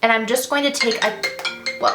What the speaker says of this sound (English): that was my alarm when I was supposed to wake up